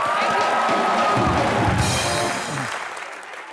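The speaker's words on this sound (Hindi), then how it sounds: "जोरदार तालियां" A studio audience at a TV comedy show claps and cheers with a few whoops, loud and steady at first, then thinning out toward the end.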